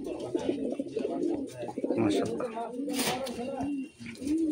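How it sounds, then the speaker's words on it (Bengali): Pigeons coo in repeated low rolling phrases, close by and fairly loud, with someone speaking over them throughout. "এখানে আরও এক পেয়ার কবুতর আছে"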